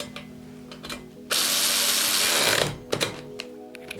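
A cordless 20V electric drill-driver runs a single sustained, loud whir for over a second while tightening a bolt, with quieter mechanical clicks and handling noises before and after.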